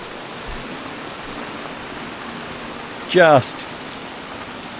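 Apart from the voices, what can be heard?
heavy rain falling on a boat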